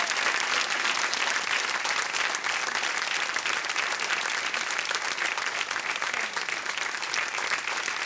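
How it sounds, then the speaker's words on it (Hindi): Studio audience of a TV quiz show applauds a contestant's win, a sustained, even wash of dense clapping that holds steady throughout without voices over it. "तालियां बजती रहे।"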